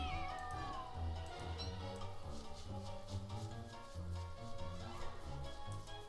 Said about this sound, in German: Katze kann ich auch mal eben töten.